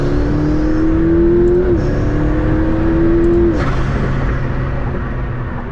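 A McLaren P1 hybrid hypercar's twin-turbo V8 roars loudly and steadily close up, pitch climbing under acceleration, with a brief shift dip and turbo blow-off whoosh on lift-off before the engine settles into a lower rumble.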